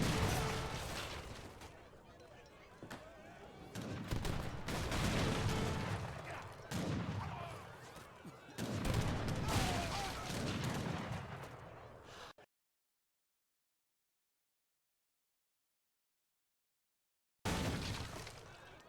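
Town center arrows and gunfire strike Falcon units in Age of Empires III: Definitive Edition, a dense barrage of crackling shots and shattering impacts with a commentator talking over it, cut off abruptly into silence before resuming.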